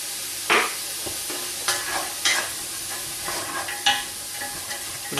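Onions and a sprinkling of cumin sweat and sizzle softly in a pan, with a steady, quiet frying hiss and several sharp stirring scrapes spread across it.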